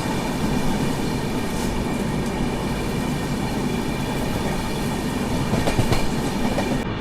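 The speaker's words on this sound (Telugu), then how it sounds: "విశాఖ ఎక్స్ప్రెస్ అయితే మన ట్రైన్ అయితే ఓవర్టేక్ అయితే చేస్తుంది." The Visakha Express rushes past close by while overtaking, a loud, continuous rumble of wheels and carriages with faint clickety-clack and an occasional squeal, and no voices over it.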